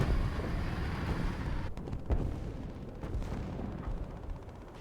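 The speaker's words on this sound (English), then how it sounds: "he's going to be shocked that I've called artillery down on him" Artillery shells land in War Thunder, a few distant booming impacts with rolling rumbles spaced a second or so apart over a continuous low tank engine drone.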